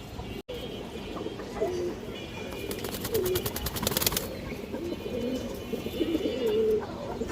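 Pigeons coo repeatedly, including domestic Pallā-line Gharrā breeding females offered for sale, their soft low calls recurring steadily under faint background bustle and a brief rattling noise near the middle.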